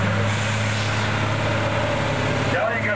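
A big engine under the bonnet of a vehicle in a pulling contest at a steam fair in Somerset, a continuous loud low drone with a steady throb throughout.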